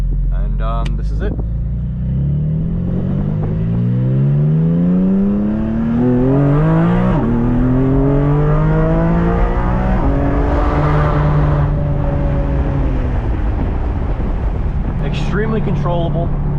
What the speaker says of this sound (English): The exhaust is just fantastic.